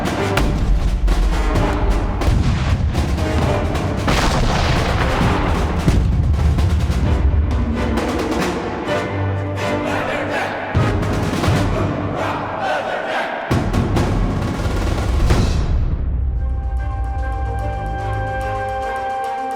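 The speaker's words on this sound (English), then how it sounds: "you will hear the orchestra answer these explosive sounds in the electronics" Electronic explosion sounds in Mason Bates' orchestral work Art of War, heard as loud, dense booms and rumbling blasts layered with swelling orchestral texture and sustained tones, dying away near the end into a thinner ringing chord.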